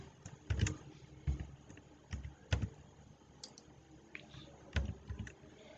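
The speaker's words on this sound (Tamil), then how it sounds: "அந்த கேப்சா கோட் டைப் பண்ணியாச்சு." Keystrokes on a computer keyboard entering a captcha code on an online land-records form, a few irregular clusters of close, fairly quiet clicks separated by short pauses.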